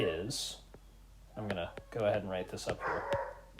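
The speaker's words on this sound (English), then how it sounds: "Excuse my dog in the background. The puppy's very excited about something." An excited puppy barks and yips several times in short bursts from the background while someone talks close to the microphone.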